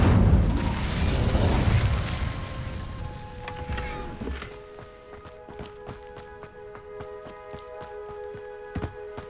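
The Incendio fire spell in Hogwarts Legacy erupts in a loud whooshing burst at the start, then fades into ringing chime-like tones and soft rhythmic thuds.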